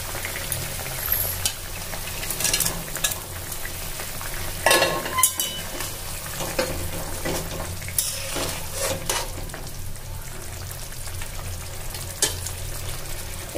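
Fried pointed gourd stirred into a pan of boiled potatoes for an aloo potol posto curry, giving a steady close sizzle with repeated scraping stir strokes and a few louder clatters throughout.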